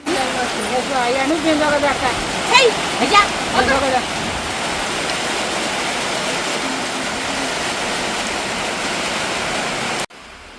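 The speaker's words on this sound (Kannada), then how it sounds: "ಜೋರು ಮಳೆನೇ ಬರೋದಕ್ಕೆ ಶುರು ಆಗೋಯ್ತು" Heavy monsoon rain pours steadily in a village, a dense, loud hiss of downpour that holds for about ten seconds, with a few brief louder splashes early on, before cutting off abruptly.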